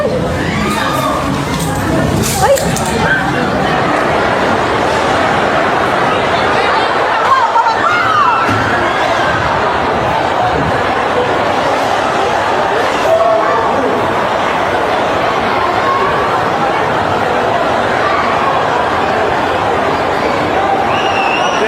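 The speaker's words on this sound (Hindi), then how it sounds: "एस्केलेटर पर भारी भीड़ है, हर आदमी उतरकर भाग रहा है।" A large crowd flees down escalators out of a shopping mall during an earthquake, a loud, continuous wash of mingled voices, shouts and commotion with talking over it throughout.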